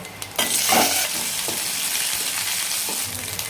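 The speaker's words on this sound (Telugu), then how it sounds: "ఒక గుప్పెడు కరివేపాకురా." Handful of curry leaves hitting hot tempering oil with chana dal, mustard seeds, cumin and red and green chillies for tamarind pulihora, a loud burst of sizzling that settles into a steady close frying hiss.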